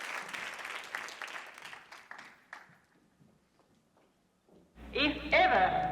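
Audience applause fading out over a few seconds as a speaker's closing words fade, followed by quiet and then music starting.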